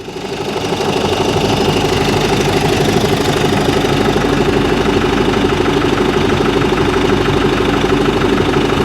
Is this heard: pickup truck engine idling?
yes